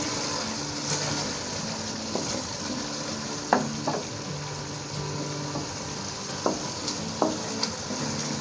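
Masala for chicken lapeta cooks in yogurt in a pan, giving a continuous sizzle with regular scraping strokes of a spoon every second or so.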